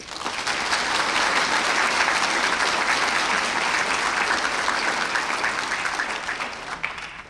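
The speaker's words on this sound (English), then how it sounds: "Please join me in a round of applause for her talents and time." At an Ivy Day evening ceremony, an audience applauds a musician, sustained dense clapping from many hands that swells in, holds steady for several seconds, then tapers off.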